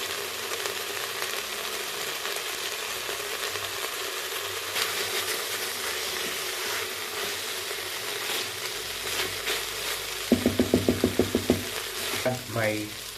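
Extra virgin macadamia cooking oil sizzles in an Instant Pot with a constant, even hiss. Near the end come a quick run of sharp rhythmic clicks and a brief voice.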